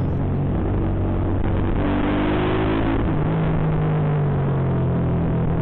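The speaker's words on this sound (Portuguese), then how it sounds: "Nossa, olha o ronco da moto, mano." A motorcycle engine roars as it passes at speed through a police checkpoint zone, with rising and falling revs and a shift in pitch midway, loud and close, with no voices.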